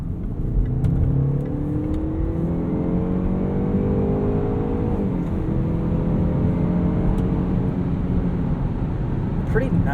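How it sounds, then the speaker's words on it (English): A 2018 Jaguar E-PACE P250 accelerates hard from inside the cabin, its engine note climbing steadily with a quick, smooth upshift of the ZF 9-speed transmission midway and the pull continuing afterward, loud and continuous. "Pretty nice quick shifts from this 9-speed ZF transmission."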